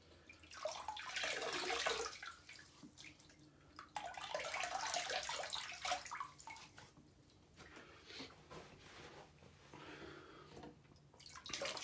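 Water running from a tap and splashing in a sink while a face is wetted before shaving, heard as soft close rushing and splashing in bursts with quieter drips between.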